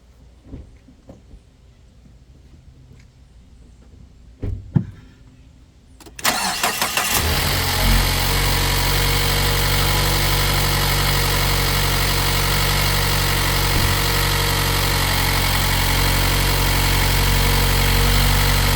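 After a few quiet clicks and knocks, a 2022 Mazda CX-9 engine with new spark plugs cranks and catches, then settles into a loud, steady idle hum that continues to the end.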